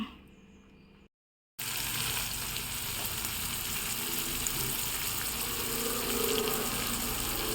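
Fish frying in a pan, heard as a steady crackling sizzle that starts after a brief silent gap and holds at moderate level to the end.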